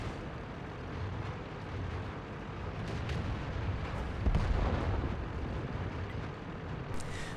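A tank fires its gun in World of Tanks while driving a VK 28.01: one heavy boom midway through, over a constant rumbling engine and battle drone.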